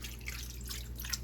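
Orange juice poured into the pot of a PowerXL 1550W 6-qt grill air fryer combo holding seasoned carnitas meat, a steady close liquid trickle with soft drips over a low hum.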